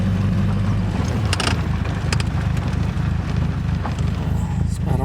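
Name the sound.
Triumph TR4 car being driven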